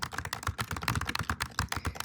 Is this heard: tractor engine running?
no